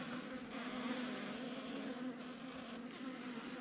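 A dense, steady buzzing of many honeybees at a hive in December, close and continuous, swelling slightly as individual bees pass nearby.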